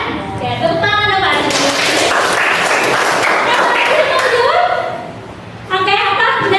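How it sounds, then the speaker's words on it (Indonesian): A class of students clapping their hands together in a dense, steady burst of applause lasting several seconds, with talk and chatter heard before and after it. "tepuk tangan dong, Pak"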